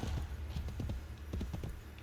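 Horse hooves clip-clop in a steady trotting rhythm within the video game Assassin's Creed Brotherhood, fairly soft and set against continuous background game ambience.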